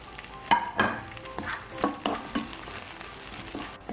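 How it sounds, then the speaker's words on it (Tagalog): Onions dropped into hot oil with garlic and ginger for chicken gizzard and liver adobo, loud sizzling frying with repeated stirring scrapes and clatter, no talk. "Lagyan na natin ang onions."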